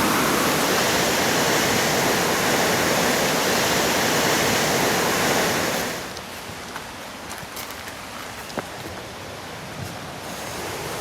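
Loud, steady roar of rushing water from the waterfalls of High Falls Gorge that drops to a quieter, distant wash partway through, with faint clicks over it.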